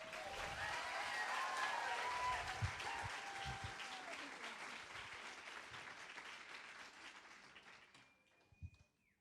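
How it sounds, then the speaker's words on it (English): Audience applause for candidates at a Texas 4-H at-large election, steady clapping from a crowd that swells early and then gradually fades away, with a few stray claps at the end. "Candidates, give them a round of applause."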